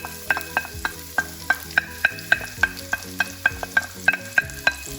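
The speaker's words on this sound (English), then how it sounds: "We're going to saute it just for a few minutes and scrape off those pieces of beef that's stuck on the bottom of the pan" Garlic and spices sautéing in a pan of beef for short rib stew, with a spoon repeatedly scraping stuck beef from the pan bottom in quick, loud, metallic strokes over a constant sizzle.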